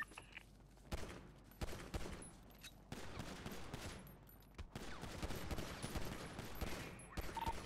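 Video game gunfire during a crate fight, dense bursts of automatic fire and sharp single shots running almost continuously, loud and close throughout with little talk.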